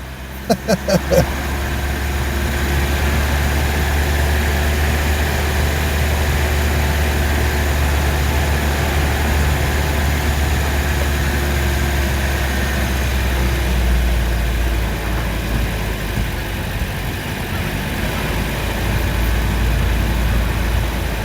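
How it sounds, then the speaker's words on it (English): A car engine with a faulty gearbox idles steadily and loudly, a constant low rumble with a brief rattling knock at the start, running alone without pause. "So the gearbox has some problem. It starts going some noises."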